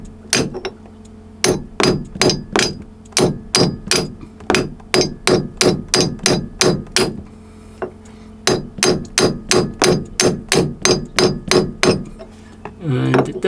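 Heavy pipe repeatedly striking a packing gland locking nut aboard a Catalina Capri 26 sailboat, a loud, rapid series of sharp metallic clanks in uneven bursts with a brief pause midway.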